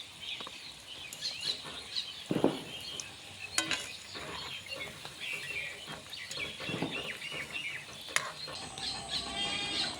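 Gulab jamun balls made from chhena fry in oil and are turned, a soft sizzle under scattered stirring scrapes and utensil clinks, with faint bird chirps in the background.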